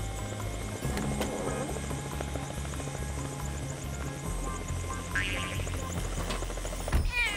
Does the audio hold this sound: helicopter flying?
yes